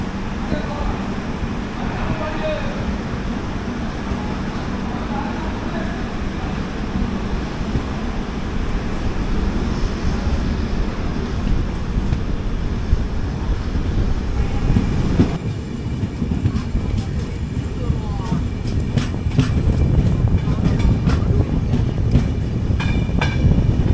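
Inside an AC 3-tier coach, the Chennai–Bodinayakanur AC Super Fast train pulls away from Usilampatti with a loud, continuous rumble that grows heavier, and rhythmic wheel clatter builds over the second half.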